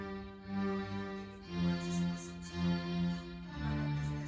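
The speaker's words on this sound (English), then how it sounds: "the violins. There are two violins actually." Sustained violin part from the song, two violins playing held, singing notes that swell in four smooth phrases, soft and unaccompanied by voices.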